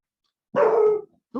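Indoors during a math lecture, a dog lets out one loud, close bark, and a shorter second bark follows about a second later. No one speaks.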